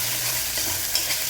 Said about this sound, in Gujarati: બેસનને થોડુંક સંતળાવા દઈશું.